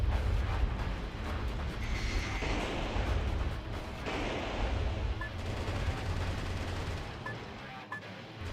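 Video game gunfire rattles in dense, continuous bursts, with loud overlapping shots and booms filling the mix and no clear gaps.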